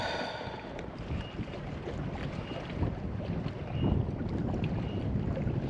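Wind buffets the microphone in a steady rumbling roar at Lake Kaweah, with lapping water and faint creaks in the background.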